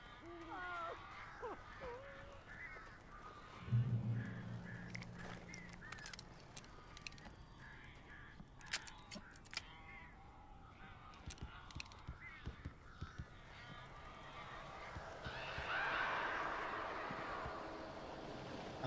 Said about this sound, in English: Holy shit, look at those birds.